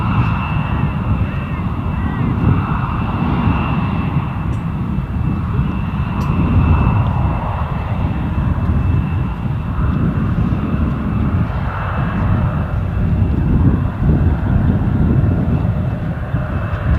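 A KLM airliner at Amsterdam Schiphol airport produces a steady, loud engine rumble with a constant whine, continuing throughout behind faint background activity.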